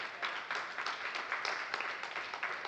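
An audience at a network marketing talk claps in steady, dense applause that holds at an even level throughout, with no voices standing out.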